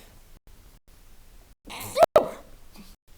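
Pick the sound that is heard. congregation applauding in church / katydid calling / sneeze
sneeze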